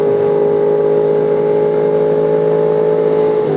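A motorcycle cruises on the freeway, its engine holding a steady, loud droning hum with constant wind rush and no change in pace.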